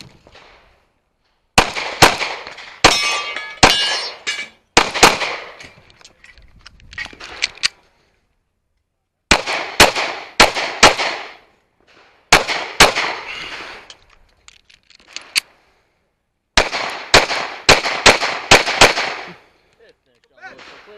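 Rapid pistol shots ring out in quick bursts during an IDPA match stage with steel targets and a drop turner, loud cracks grouped in strings of two to five with short pauses between volleys, some with metallic ring from struck steel.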